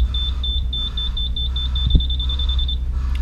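A Triumph Trophy motorcycle alarm: a steady series of high-pitched electronic beeps repeats rapidly for a few seconds, then stops, over a low background rumble.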